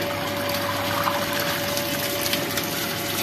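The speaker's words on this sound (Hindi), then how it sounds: "पतीले के अंदर ना पानी डाल दो, फुल कर दे ना पतीला, फुल कर दे पानी का" Water pours steadily into a large cooking pot to fill it, a continuous rushing gush at close range with no talking over it.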